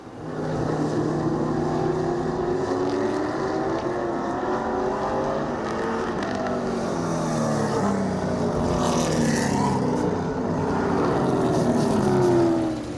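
A race car runs qualifying laps fresh out of the trailer, its engine droning loud and steady with rising and falling revs as it shifts and sweeps past, sustained for over ten seconds without talk.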